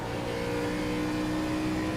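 Onboard engine of the 04 NASCAR Gen 4 Cup car at Rockingham in the iRacing game, a loud, steady high-revving roar held throughout with no voices.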